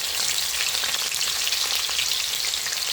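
Chopped garlic and ginger fry in a pan for a masala dosa filling, giving a loud, dense, continuous sizzle close up with no voices.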